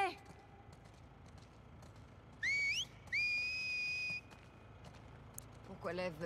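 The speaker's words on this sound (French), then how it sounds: "Oui, c'est vrai qu'ils savent siffler." Enemies in the video game The Last of Us Part II signal each other with two short rising whistles, one brief and one longer and steadier, heard at moderate distance over quiet game ambience.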